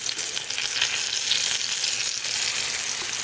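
Oysters frying in a pan over medium heat, giving a steady bright sizzle and crackle throughout with a few small pops and no voices.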